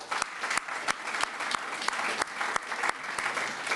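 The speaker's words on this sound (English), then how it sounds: "Big round of applause." An audience at a business ethics forum in Bled, Slovenia applauds a panelist taking the stage, steady moderately loud clapping with distinct individual claps standing out throughout.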